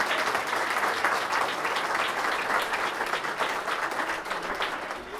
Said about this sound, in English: I'd also like to recognize the both of them with a round of applause, please